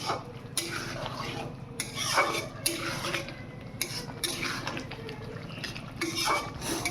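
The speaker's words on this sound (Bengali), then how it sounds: "কষে নিতে হবে মশলাটা" A spice paste of ginger, cumin and chili is stirred and fried in a pan at close range, with repeated scraping clinks of a spoon against metal over a low sizzle.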